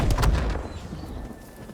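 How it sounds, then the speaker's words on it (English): Enemy cannons in a video game battle fire heavy booming blasts in a quick cluster at the start, followed by a rumbling decay and continued distant din. "Their cannons took us out there."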